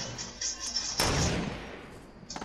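A gunshot in the Fortnite video game sounds as a single loud, sharp blast that rings out and slowly fades, with scattered game noise before it and a faint clatter at the end.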